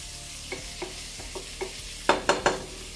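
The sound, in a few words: stirring garlic and seasoning in a pan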